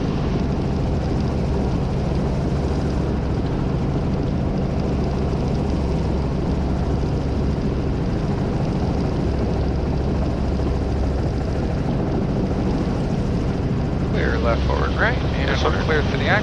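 Training helicopter in flight on final approach near gross weight, its engine and rotor drone steady and loud throughout, with an instructor's voice talking over it and a brief burst of radio chatter near the end.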